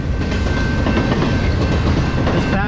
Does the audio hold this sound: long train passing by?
yes